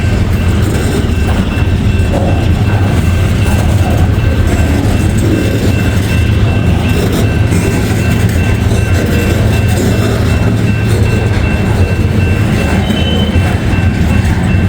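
Freight train cars roll steadily past close by, among them Norfolk and Western grain hoppers and cars loaded with steel coils, with a continuous loud rumble and rattle of wheels on track and no speech.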